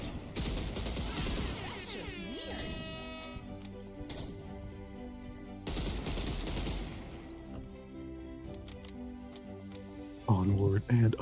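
Video game gunfire from a rifle-style weapon: a sustained, dense burst of automatic shots, a short pause, then another long burst, with clanking and a metallic rattle near the end.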